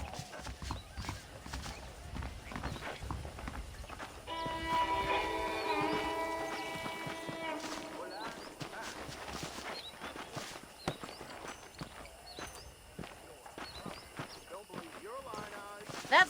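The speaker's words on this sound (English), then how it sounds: "The horses are saddled up over here." Horses walk with steady clip-clop hoofbeats and an occasional whinny in the Western video game Red Dead Redemption, hooves close and clear under a voice, with a sustained musical tone midway.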